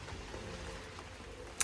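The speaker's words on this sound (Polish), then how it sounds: "Pada sobie deszczyk, pada sobie równo." Light, steady rain falls as a soft continuous patter with a faint broadband hiss, fairly quiet and even throughout, with a single brief sharper tap near the end.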